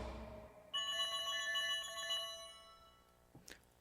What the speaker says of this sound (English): All right, we are going to be calling Anna or Ann